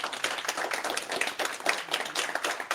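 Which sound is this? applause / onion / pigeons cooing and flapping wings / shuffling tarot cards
applause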